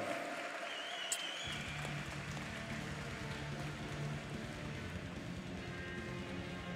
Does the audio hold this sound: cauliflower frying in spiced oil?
no